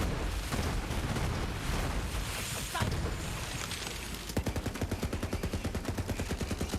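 Gunfire and grenade blasts from a Borderlands 3 firefight, a dense loud barrage of shots with a heavy boom near the middle, then a rapid regular burst of automatic fire to the end.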